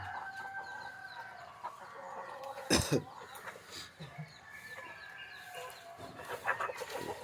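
Chickens clucking and squawking in a yard, with a louder burst of cackling near the middle and scattered calls throughout.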